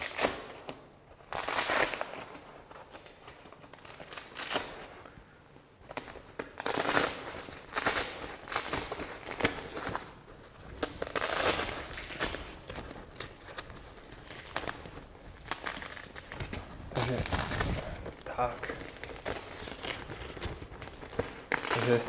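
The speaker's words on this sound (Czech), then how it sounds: "Opět se pouze přichycují ze zadu na suchý zip." Diffusion fabric on an LED roll light rustles and crinkles as it is handled and pulled free of its velcro backing, in soft irregular bursts at close range.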